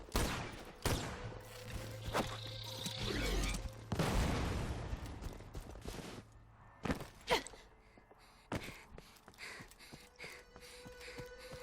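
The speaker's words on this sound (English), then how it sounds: "Have a few shotgun bullets, why don't you?" Shotgun fire in the video game Borderlands 2, a series of loud blasts in quick succession followed by scattered sharper shots and impacts, with game effects between them and no speech.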